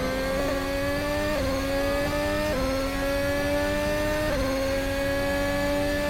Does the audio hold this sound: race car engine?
yes